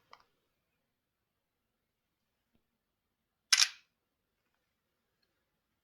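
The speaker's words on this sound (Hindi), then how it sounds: "एक पिक्चर में क्लिक कर लेता हूँ।" Oppo A78 4G smartphone front camera shutter click, a single short crisp snap in near silence, preceded by a faint tap.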